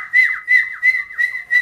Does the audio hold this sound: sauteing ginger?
no